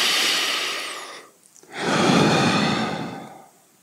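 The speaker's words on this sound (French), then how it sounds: "Je prends une vaste inspiration afin d'oxygéner tous ces tissus." A deep, slow breath is drawn in through the nose during a relaxation session for sleep, then a long airy exhale follows after a short pause, close and clear.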